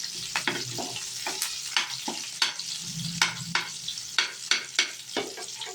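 Onions fry in a pan for shahi aloo paneer, with a soft, steady sizzle broken by repeated scraping and tapping stirs that grow more frequent toward the end, close by and with no one speaking.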